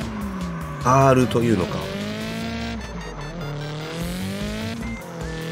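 Tires squealing as a car drifts on a Japanese mountain pass in CarX Drift Racing 3, a loud rising screech over a revving engine, sweeping through a corner while someone talks over it.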